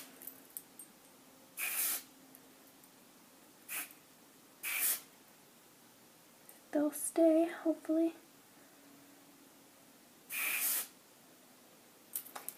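Hairspray from an aerosol can hisses in several short separate bursts as layered flyaway hairs are sprayed down, close and clear, with a speaking voice briefly in between.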